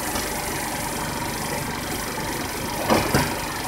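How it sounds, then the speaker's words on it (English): A motorcycle engine idles steadily and close by, with two brief louder burps or pops near the end. No one talks. "And you can hear the engine like burping."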